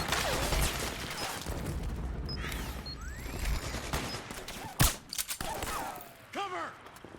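Suppressing gunfire in Metal Gear Solid 4: bursts of rapid shots, thuds and a sharp near blast amid busy game effects, with voices shouting over the fighting.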